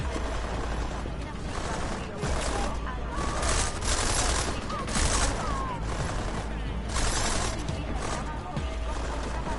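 Bursts of rapid gunfire crackle repeatedly amid explosions and a loud, busy battle din in the video game Deus Ex: Mankind Divided, with shouted voices mixed in.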